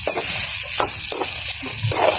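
Boiled potatoes being sautéed in a pan, giving a steady hiss with soft scraping and stirring knocks spaced through it, close and fairly loud.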